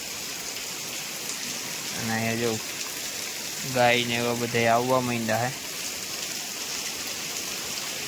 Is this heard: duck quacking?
no